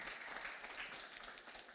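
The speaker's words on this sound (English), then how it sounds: "let's give her a big round of applause" Faint, steady applause from an audience at a talk at India Club, a continuous wash of clapping with no breaks.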